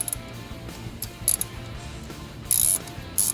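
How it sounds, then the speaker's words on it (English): Ratchet loosening the alternator bolts on a vehicle during a dual alternator bracket install, short bursts of rapid metallic clicking, sharper and louder toward the end, close by with no talk. "Now we're going to loosen up the two bolts for the alternator"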